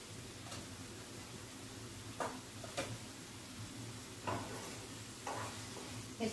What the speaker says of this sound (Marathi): मिक्स करून घ्यायचं, चांगलं परतवून घेऊ आपण।